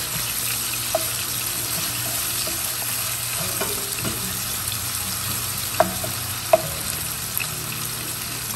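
Ginger and garlic fry in a pan for butter chicken, a constant close sizzling hiss with occasional clinks and taps of a utensil, no voices.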